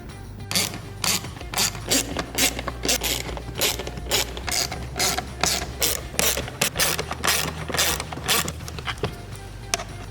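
A ratcheting 5.5mm socket wrench clicks steadily while backing out the screws on the rear of a storage bin in a Jeep Wrangler JL, with repeated bursts of close, crisp pawl clicks and brief pauses between turns.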